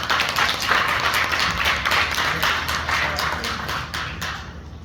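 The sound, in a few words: applause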